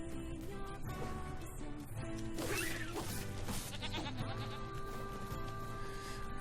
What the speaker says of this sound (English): I guess that's why we need to kill these sheep.